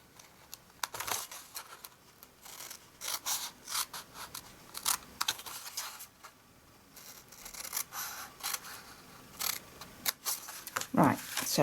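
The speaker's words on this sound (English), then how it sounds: "we're going to cut this down to the first score line, and then we're going to cut this little piece out" Scissors snip through card stock while trimming a gift box down to its score line, a run of crisp repeated cuts with rustling paper handling between them, close and moderately loud, with no talking.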